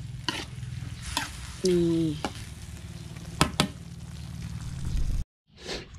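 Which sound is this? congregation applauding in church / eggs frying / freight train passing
eggs frying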